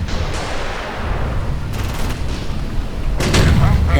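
Gunfire pounding a building in the World War II strategy game Sudden Strike 3 during a German campaign mission, a dense crackle of shots and booms with sharper bursts near the end, under a voice.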